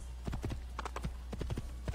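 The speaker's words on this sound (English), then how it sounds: "we will get back on horse, and we will head off into the distance once again" Horse hooves clip-clop steadily while riding in the Assassin's Creed video game, a brisk, even rhythm of soft thuds at moderate volume, close and continuous with no speech.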